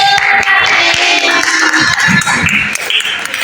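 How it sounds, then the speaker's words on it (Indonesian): Classmates in a classroom clap their hands together, a dense, steady patter of many claps running throughout with some tonal ringing in the background. "tepuk tangan dulu"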